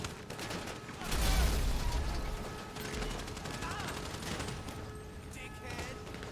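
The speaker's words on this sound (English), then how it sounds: "Here's the explosion." Explosion and gunfire in GTA 5: a loud blast followed by sustained rattling fusillades and mechanical clatter, with the player talking over the chaos.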